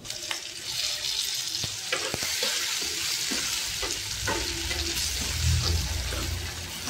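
Tomatoes fry in a pan for chilli chicken, giving a dense, steady sizzle broken by sharp spatula scrapes and stirring knocks, with bubbling growing richer toward the end.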